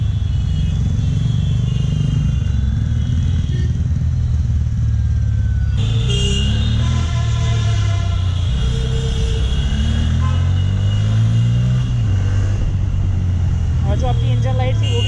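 A Bajaj Pulsar N160 motorcycle engine, freshly serviced, idles and revs loudly up close with a deep, continuous rumble throughout, while someone talks over it.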